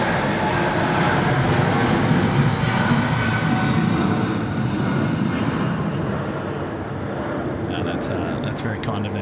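A United Airlines jet departing Sydney Airport for San Francisco, a broad steady engine roar holding loud throughout, easing slightly midway, with a voice speaking over it.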